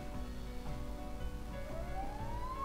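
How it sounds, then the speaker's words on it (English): A fire engine siren wails in the distance under steady background rumble, its pitch sweeping upward near the end. "Oh, that was a fire engine."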